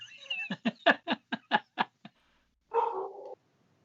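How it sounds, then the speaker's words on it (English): An excited dog or small animal lets out a quick series of about eight sharp, high yaps in rapid rhythm, then after a short pause a longer whining cry, fairly faint against a quiet background. "a very excited dog"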